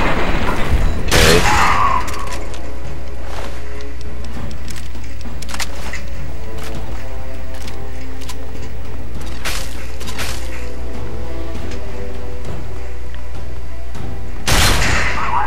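Gunfire in Fallout 3, a loud burst of rapid shots at the start followed by scattered single reports and game sounds, with another loud blast near the end.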